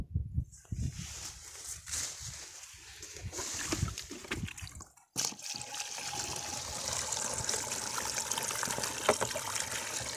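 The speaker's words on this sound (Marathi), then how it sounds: "तर आम्ही औषध टाकून आता पंपामध्ये पाणी भरत आहे।" Water running into an agricultural sprayer pump tank mixed with herbicide for a soybean field, a steady trickling pour that starts faint and intermittent, then becomes a continuous close gushing fill after a brief pause.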